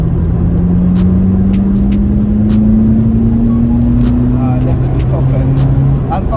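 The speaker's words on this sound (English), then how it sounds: "You're literally just making the turbo kick. It kicks in strong then" VW Polo GTI 1.8 litre accelerating with the turbo coming on strong, a steady rising engine drone heard from inside the cabin, continuous and loud, with people talking over it.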